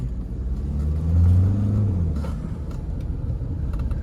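A 2014 BMW 520D diesel saloon driving in sports mode, a steady low engine drone heard from inside the cabin that swells briefly as the revs climb and then settles back to an even rumble.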